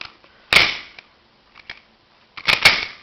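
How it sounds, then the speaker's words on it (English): The slide of a KSC Glock 18c airsoft pistol is pulled back and released, making sharp metallic clacks: a single snap, a couple of faint clicks, then a quick double clack. "you have to pull the slide back to change the selector"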